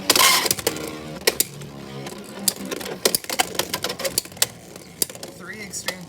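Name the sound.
Beyblade Wizardrod spinning and clashing in stadium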